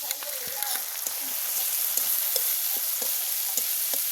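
Spice masala with cashew paste sautés in a pan for a stuffed pointed gourd and prawn dish, a steady close sizzle broken by repeated scraping taps of a spatula stirring.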